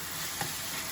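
Ginger-garlic paste sizzling with onions in a pan, a steady broadband frying hiss with one brief louder crackle near the middle, close and alone.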